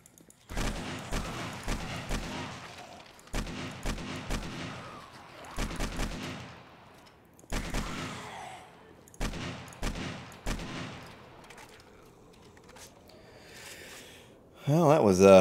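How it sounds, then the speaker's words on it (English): AK-47 gunfire in the video game 7 Days to Die, several short bursts of rapid, loud, close shots in groups of three or four, separated by brief pauses, fading out before a final louder noise. "You are no match for the AK-47."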